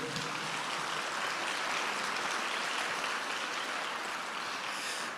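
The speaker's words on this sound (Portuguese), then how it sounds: "vamos aplaudir a palavra do Senhor" A church congregation applauds after a sermon reading, a thick, sustained wash of many hands clapping at once that stays even for several seconds before easing slightly at the end.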